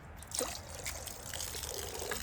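Warm water is poured into an icy bucket on a very cold morning, giving a close, continuous trickling and splashing pour that runs for a couple of seconds without speech.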